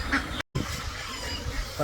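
Ducks at a large duck farm give faint honking quacks over soft background noise, with a brief silent break near the start.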